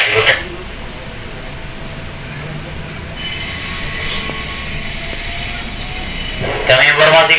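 A KRL commuter train runs on the line between Tangerang and Pasar Senen, giving a steady loud rolling rumble with high wheel squeals and tonal whines, and louder bursts of noise at the start and end.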